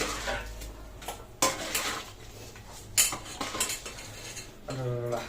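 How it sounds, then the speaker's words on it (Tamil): Chicken fry with curry leaves stirred in a pan, with a run of close metal scrapes and clinks of a utensil against the cookware, in irregular bursts, with no talk. "நல்லா இதையே கிளறி விட்டுடலாம்"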